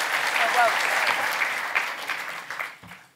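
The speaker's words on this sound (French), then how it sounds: "Vous pouvez l'applaudir." Loud applause from an audience, dense clapping that gradually thins and fades out over a few seconds.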